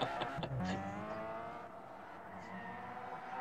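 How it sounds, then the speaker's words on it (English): An all-wheel-drive touring car drifts in Gran Turismo 6, its engine holding a steady, quiet droning whine. Short rough bursts of tire noise come near the start, then the sound settles into an even sustained tone. "he's trying to drift in an all-wheel drive car"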